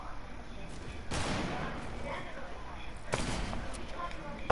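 Video game gunfire comes as a couple of muffled bursts of shots about two seconds apart, faint and low in level, with a voice faintly present underneath.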